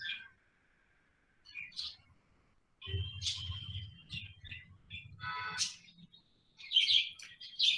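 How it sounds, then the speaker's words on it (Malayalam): Small birds chirp indoors in a room during a live online class, giving short bright bursts of tweets scattered across the clip over a low background rumble. "റൂമിനാണ് ഈ കിളികളിരിക്കുന്നത്, അതുകൊണ്ടാണ് ഈ ശബ്ദം ഇത്രയും."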